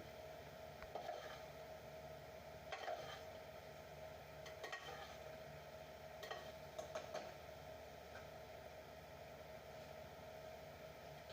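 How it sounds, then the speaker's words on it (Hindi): Spaghetti being tossed and mixed with chicken in a pan for chow mein makes soft, quiet scraping and stirring noises, with a few louder clatters of the utensil against the pan at irregular intervals. "इस तरह स्पैगेटी को भी इसके अंदर मिक्स कर लें।"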